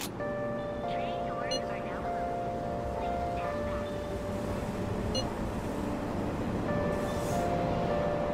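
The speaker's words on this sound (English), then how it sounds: "Train doors are now closing." Steady rumbling of a video game subway train departing Aoyama Itchome station, with a constant mechanical drone, tonal hum lines and occasional brief chimes, a voice faintly present announcing doors closing.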